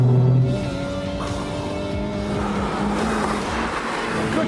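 A Honda Civic races hard around a track, its engine note close and loud, rising and falling through gear changes with tyre noise underneath and no talking.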